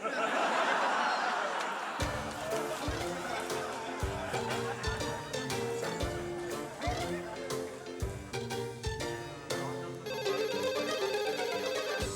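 A telephone rings repeatedly in a rhythmic electronic pattern in a Turkish sitcom scene, clear and fairly close, with brief laughter and voices around it.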